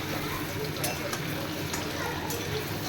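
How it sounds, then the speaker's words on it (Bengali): Onions and potatoes frying in a pan under a constant dense sizzle, with faint scraping as they are stirred; no voices. "ভালো করে পেঁয়াজটাকে ভেজে আমি কিন্তু আলুগুলো দিয়ে দিলাম"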